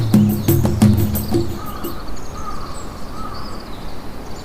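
In a forest at morning, crows caw in a rapid run of loud, close calls, and then the calls stop. Faint bird chirps and a steady insect buzz carry on in the background.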